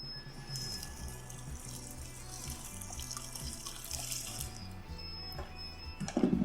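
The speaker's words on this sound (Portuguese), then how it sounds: "a água está descendo devagarinho ali" Water runs steadily from a tap or hose into a large kettle for brewing a 120-litre beer batch, a continuous close wash of flow with a low hum beneath and a brief splashier surge at the end.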